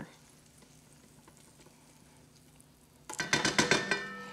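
Fat in a skillet starting to sizzle, with a sudden burst of clinking and stirring of metal utensil against the pan near the end over a quiet kitchen background.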